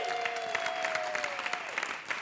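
Audience members at a live public radio event in downtown Los Angeles clap in answer to a show-of-hands poll, a short burst of crowd applause with a steady tone ringing through it.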